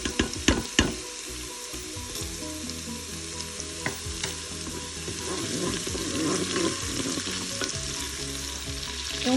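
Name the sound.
shrimp frying in butter in a pan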